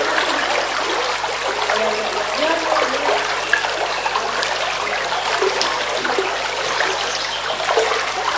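Water is filled by the gopis as a steady, continuous pour and trickle that stays even and fairly loud throughout, with no voices.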